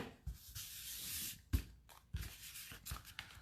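Paper card being trimmed at the edges during a Stampin' Up! papercraft session, with soft, close scraping and rustling cuts and a few sharper snips.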